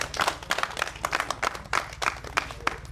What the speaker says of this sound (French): je vous prie d'applaudir pour le ministre évident